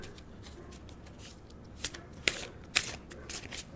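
Tarot cards shuffled by hand, soft riffling and flicking with a few sharper snaps of the deck, close and fairly quiet, with no talk over it.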